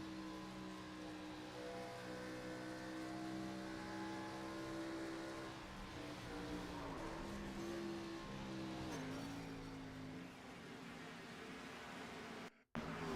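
Race cars rolling down pit lane at Chicagoland in iRacing, a steady layered engine drone with several cars' tones overlapping, the pitch dipping and rising as they shift speed, then a brief dropout near the end.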